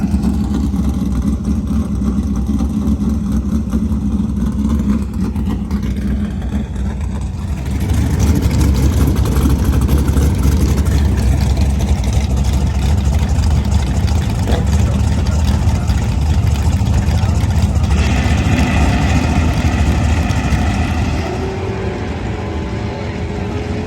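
A 351 Windsor V8 from a budget race build makes a loud, continuous engine roar on a test run. Its pitch shifts and surges partway through, and the sound carries steadily from start to finish.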